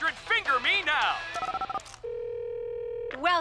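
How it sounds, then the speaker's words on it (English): Cartoon telephone keypad tones: a quick run of rapid beeps, then a long steady tone, set between bursts of animated voices talking. "Dial 1-800-FINGER-ME now."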